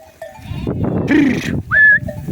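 Sheep in a flock during a very hot month, with a close, loud bleat standing out over shuffling and low farmyard noise.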